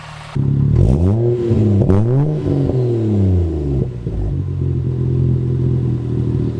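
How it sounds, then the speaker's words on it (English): Exhaust of a Toyota Soarer, a classic JDM coupe, revving loudly nearby: the engine swings up and down through two quick rises, then settles back to a steady, rumbling idle. "I'll have a chance to open up a little bit so you guys can hear a little bit more what this exhaust got"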